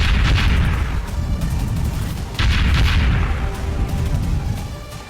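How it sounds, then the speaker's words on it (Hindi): Repeated heavy blasts and booms from a missile-struck Greek oil tanker roll over one another in a dense, loud rumble, with bursts recurring every second or so. "एक साथ कई धमाके हुए और ग्रीस का जहाज आग की लपटों में घिर गया"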